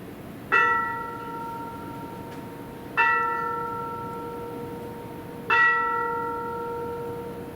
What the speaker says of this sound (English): can actually hear the chiming of the bell